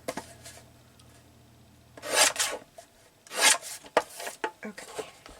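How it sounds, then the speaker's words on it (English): Paper trimmer slicing through sheets of paper while making a junk-journal envelope: a few separate rasping cutting strokes, close and fairly loud, with quiet handling noise between them. "So I'm just going to get my trimmer out."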